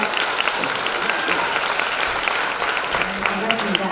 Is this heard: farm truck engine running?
no